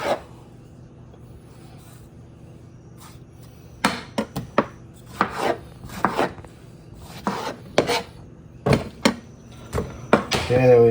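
A knife chops tomato and onions for salsa on a board, with irregular bursts of quick, sharp cuts and scraping that build in pace, alongside faint background noise.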